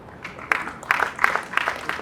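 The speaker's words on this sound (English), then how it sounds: "Let's put our hands together for him" Applause from an audience at a corporate event honouring dignitaries, heard as a thin, uneven patter of clapping that swells in a few brief bursts across two seconds, moderately distant and without voices.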